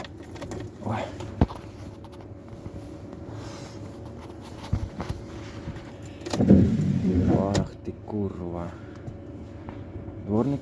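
Car keys jingle with a few short metallic clinks beside a car on a freezing minus-eight-degree winter day, while someone talks nearby.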